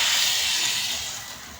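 Loud sizzling hiss as hot tempering (vaghar) with sugar and water hits sev khamani, a broad steamy burst that slowly fades over a second or two, with no voices.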